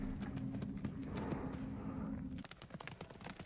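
Horse hooves clip-clop in a show jumping competition, a steady run of hoofbeats up close that breaks into sharper, separate strikes near the end.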